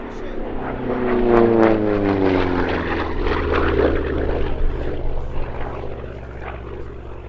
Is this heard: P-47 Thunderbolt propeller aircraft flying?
yes